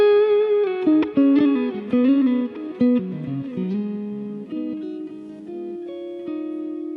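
A Strat electric guitar played through the Helix Gibson EH185 amp model, with low drive and bass and treble set high, rings out a short melodic phrase of clean, sustained notes with light chime.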